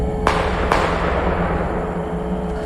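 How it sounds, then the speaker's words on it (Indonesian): Two sharp cracking gunshots from a film in quick succession, followed by a rumbling, noisy background that lingers afterward. "Tak lama kemudian terdengar suara tembakan"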